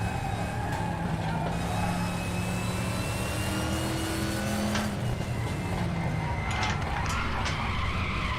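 Race car tyres skid loudly as the rear of a Group 5 car steps out on a downshift in RaceRoom, squealing tones layered over a steady, loud engine drone.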